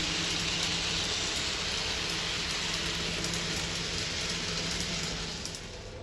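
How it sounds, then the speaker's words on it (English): A long westbound express on a model railway passing, a steady close rushing rumble of wheels on track with a faint low hum, continuous and even, fading slightly at the end. "this is overtaken by a long westbound express"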